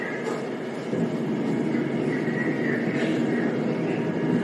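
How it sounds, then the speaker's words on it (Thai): A train runs alongside on a bridge crossing the Chao Phraya River near Rama 7 in Bangkok, its steady, loud rumble and metallic hum continuous and close throughout, with no talk over it. "โอ้เสียดายครับโดนรถไฟด้วยกันที่บังวิวนะครับ"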